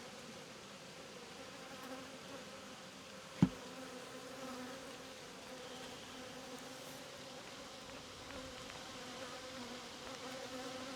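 Honey bees buzz steadily around an open hive during an apiary inspection of a queenless colony, a soft continuous hum with one sharp thump partway through.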